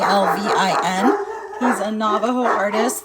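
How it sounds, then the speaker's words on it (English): Dogs yip, howl and whimper in the background while someone talks steadily over them, the animal sounds rising and falling behind her voice. "I'm so sorry about the dogs."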